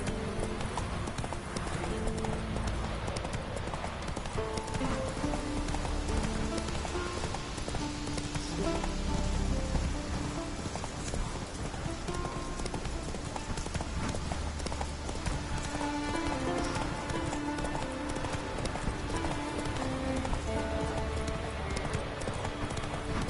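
Horse hooves clip-clop steadily at a gallop throughout, carried over a busy game soundtrack with faint rain and ambience; Roach the horse in The Witcher 3 video game, heard up close and continuous.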